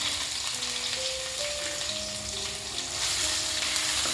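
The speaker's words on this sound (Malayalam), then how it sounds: "ഇനി നമുക്ക് ചതച്ച് വെച്ചേക്കുന്ന ഇഞ്ചിയും വെളുത്തുള്ളിയും കൂടെ ഇതിലോട്ട് ഇട്ട് കൊടുക്കാം." Crushed ginger and garlic frying in hot oil in a pan, a steady close sizzle with faint stirring throughout.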